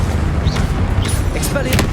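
Confringo blasting-spell explosions in the Hogwarts Legacy game on PS5 boom and rumble loudly and continuously, with overlapping bursts layered over dense game noise.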